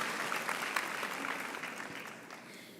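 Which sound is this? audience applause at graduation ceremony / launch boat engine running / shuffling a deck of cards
audience applause at graduation ceremony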